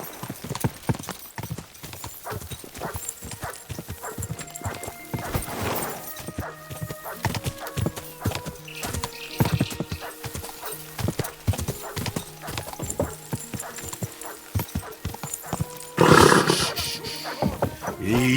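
A horse gallops with steady clip-clop hoofbeats in the medieval video game Kingdom Come Deliverance 2. A neigh rises near the end over background game sounds, and no one speaks.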